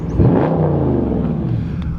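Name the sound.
muscle car V8 engine revving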